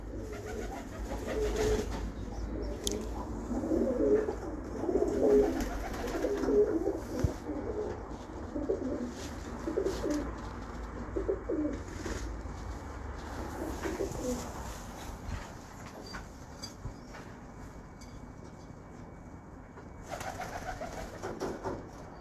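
Breeder pigeons cooing, repeated low rolling coos in a series of bursts at close range, fading into quieter bird sounds and light handling noise later.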